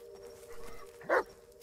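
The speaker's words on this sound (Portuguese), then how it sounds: "Cachorro late, late." A single short bark from a dog in the Blair Witch horror video game, heard near a woodland cabin and campsite, fairly faint over a steady low hum of game ambience, without speech.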